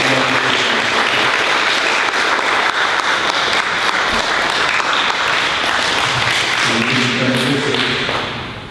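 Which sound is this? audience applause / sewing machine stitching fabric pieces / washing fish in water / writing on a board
audience applause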